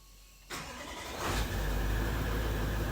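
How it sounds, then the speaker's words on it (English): A Toyota Land Cruiser 200 series with push-button start cranks and fires up, a short starter whir followed by the engine catching and settling into a loud, steady idle close by. "Now we fire up our vehicle."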